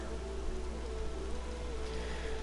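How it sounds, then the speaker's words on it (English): Steady rain falls in the video game Horizon Zero Dawn, a continuous, even hiss of drops over a low rumble, with no voices. "She's enjoying the rain."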